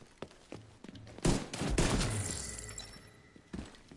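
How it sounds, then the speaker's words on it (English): Sidearm gunfire in The Division 2 during a Lincoln Memorial mission: a few sharp pistol shots, one loud burst with a trailing echo, then a final shot, over a low game background. "We will use our sidearm a little bit over here."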